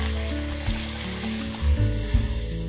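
Hot tempering hits horse gram rasam with a loud, close sizzle and bubbling crackle that keeps going steadily, with a few stirring clatters.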